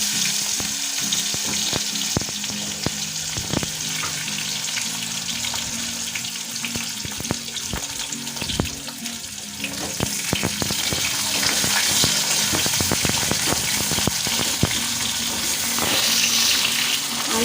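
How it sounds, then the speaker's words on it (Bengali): Potato, papaya and green banana pieces fry in hot oil with whole cumin, giving a steady close sizzle and bubbling broken by frequent sharp clicks and scrapes of stirring. "আলু, পেঁপে, কাঁচকলাগুলো ভেজে নেব।"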